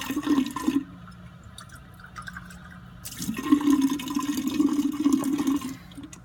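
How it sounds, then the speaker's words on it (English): Tap water gushes into a lab sink while a beaker is rinsed, with two loud bursts of running water split by a short quieter gap and no talking. "So you'll dump your liquid contents down the sink and rinse your beaker"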